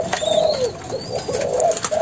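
A Malaysian spotted dove, a hand-raised cage bird, gives soft repeated coos close by over light background hiss.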